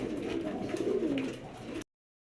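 Low, throaty coos from a pair of pigeons roll along steadily at close range, one drawn-out phrase after another, then cut off abruptly.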